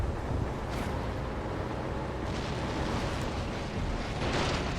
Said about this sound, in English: Another German tank, or Soviet tank destroyed by the Germans